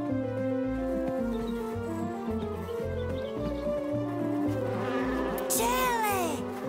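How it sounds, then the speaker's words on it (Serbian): Cartoon bees buzz around in a steady insect drone mixed under bouncy, rhythmic background music, with a brief whooshing flourish near the end. "zuje unaokolo ceo dan."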